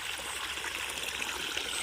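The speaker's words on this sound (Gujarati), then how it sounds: "પાણી ચાલુ છે." Irrigation water flows steadily through a farm field at night, a continuous close rushing and trickling wash with no voices.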